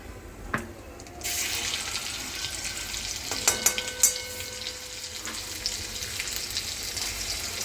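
Ajwain and asafoetida hit hot oil and start a steady, moderate sizzle after a quiet opening, with a few sharp utensil clicks and taps in the pan along the way.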